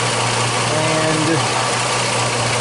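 A 2006 Jeep Liberty engine idles steadily and loudly up close while its transmission fluid is pumped, a constant mechanical drone with a faint whine, and someone speaks briefly over it.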